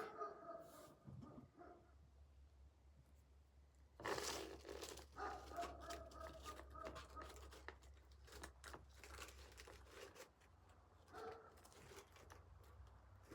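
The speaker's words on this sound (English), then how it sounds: "He just likes to bark." A dog barks in repeated bursts at a cut-flower farm, the barks fairly close and mixed with rustling and crinkling, with a low steady hum running underneath.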